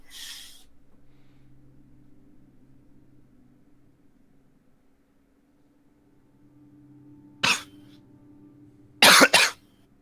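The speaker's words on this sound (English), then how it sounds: "I hate this cough" A single cough sounds, then after a pause two more close together, against a quiet background hum.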